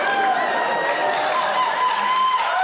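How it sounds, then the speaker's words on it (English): A studio audience claps and cheers in a dense, continuous wash of applause, with a voice talking over it. "Some of that applause feels sarcastic."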